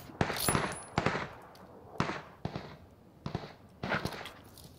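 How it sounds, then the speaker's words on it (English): Magnum revolver fire in PUBG rings out in about seven sharp, loud cracks at uneven intervals, each shot followed by a brief fading echo. "Just headshotted the fuck out of a guy with a Magnum"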